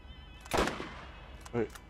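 Sniper rifle shots in the Borderlands video game: one loud sharp crack, then a second softer shot about a second later, over quiet game ambience.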